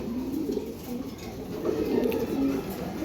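Low, throaty cooing of a male Arabian pigeon, repeated in soft rolling phrases, close by with a faint background hum.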